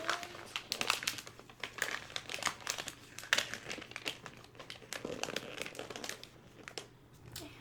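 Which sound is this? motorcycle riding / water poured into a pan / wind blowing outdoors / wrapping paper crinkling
wrapping paper crinkling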